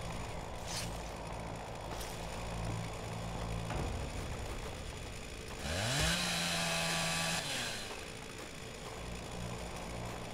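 A chainsaw revs and idles in the video game Dead Island Riptide, its buzzing motor droning steadily with a sharp rising roar midway and no talking.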